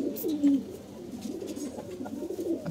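Pigeons in a breeding loft give quiet, rolling coos alone, fairly faint and continuous, with no voices present.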